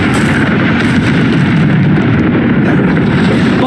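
Bombarda explosion spell being cast in the video game Hogwarts Legacy, a dense, sustained low rumbling blast that fills the whole stretch at high loudness with no clear gaps.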